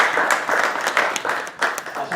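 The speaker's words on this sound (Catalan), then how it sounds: "José, un aplaudiment per a ell" Audience applause at the annual calendar presentation of the Latin-rig sailing season in Silla, a sustained burst of clapping with uneven swells that fills the short moment on its own.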